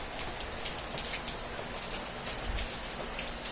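Steady rain falls outdoors, a dense even hiss of drops on surfaces, close and continuous, with no voices.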